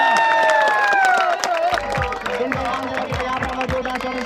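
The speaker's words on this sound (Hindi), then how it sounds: "आपके भरपूर तालियां" Applause and cheering break out from the crowd at a cricket tournament awards ceremony as the winning team's captain is called forward. It comes as a busy mix of clapping and crowd noise, with some tonal sound in the opening seconds.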